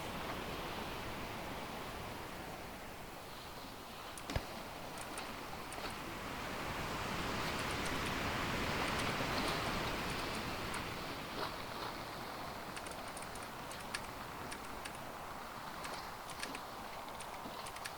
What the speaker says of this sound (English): Yeah, I definitely hear a storm.